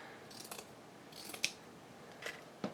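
Scissors snip through a piece of cheap burlap cut from a large roll, a few quiet, spaced crunchy cuts with soft rustling of the coarse fabric between them, close up and fairly faint.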